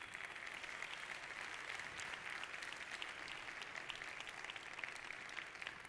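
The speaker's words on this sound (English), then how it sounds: "Please give him a round of applause" Audience applause for Professor Muhammad Yunus at a talk, a dense, steady clapping from a large crowd that holds evenly throughout, moderately distant and without speech.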